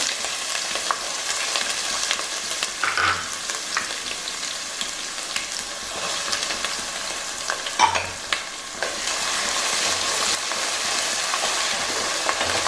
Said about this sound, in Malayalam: ഇതിലേക്ക് ഇഞ്ചി വെളുത്തുള്ളിയും ചേർത്ത് കൊടുക്കണം